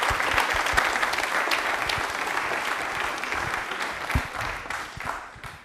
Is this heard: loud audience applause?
yes